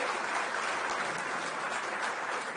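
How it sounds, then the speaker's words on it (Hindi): Applause from an audience at a political gathering, a broad steady wash of clapping that fills the whole stretch at an even level, with no voices standing out above it. "एक बार जोरदार तालियां भाई सुधांशु जी के लिए"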